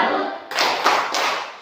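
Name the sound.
group applause clapping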